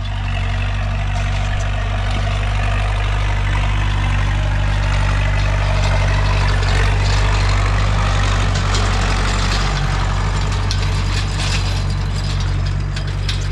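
A Massey Ferguson MF 3080 or IHC 844 tractor engine runs steadily and loudly, a deep low rumble with rattling mechanical clatter throughout, crossing a wet, bumpy meadow with no talk.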